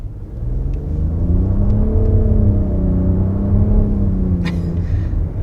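A 2022 Nissan Rogue's turbocharged three-cylinder engine pulls under acceleration in a front-wheel-drive example, a steady rumbling drone rising and falling in pitch as simulated shifts step it along, heard from inside the cabin.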